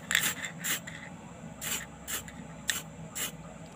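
A spray can applies a light coat of paint to a Gundam plastic model in short hissing bursts, six or so quick sprays separated by brief pauses, close and clear.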